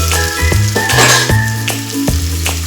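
Ridge gourd, tomatoes and onions being stirred in a hot pan, with a loud, steady sizzle and regular scraping strokes of the spoon about every half second, close up and with no talking.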